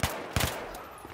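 Gunfire in the video game Battlefield 3, two sharp, close shots about a third of a second apart, each ending in a short echoing tail and then fading to quiet.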